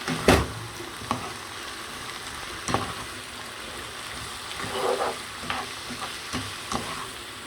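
Onion, tomato and black pepper are stirred in a pan for an attieke sauce, with a quiet steady sizzle and a few sharp scrapes and knocks of the spoon against the pan.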